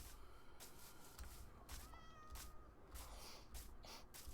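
A cat meows in a video game, a few faint short mews standing out over a crackly, noisy background.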